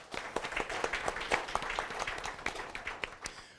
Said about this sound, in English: Another round of applause for Tulile Kanye.